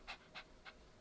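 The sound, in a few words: dog panting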